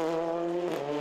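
A Ford Fiesta rally car on a special stage at the South Belgian Rally, its engine a steady, sustained drone with a slight pitch change near the end, fairly faint and brief.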